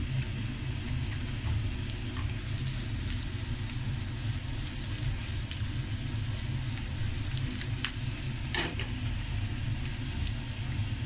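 Three or four coarsely chopped garlic cloves frying with onions in a pan for a dhaba-style masoor dal tadka with butter, giving a steady, continuous sizzle that stays even throughout.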